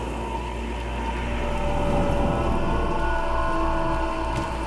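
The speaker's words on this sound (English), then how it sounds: "Rain's pouring." Heavy rain pours steadily in the video game Cyberpunk 2077, a dense, even wash of noise lasting throughout, with a low rumble underneath and no voices.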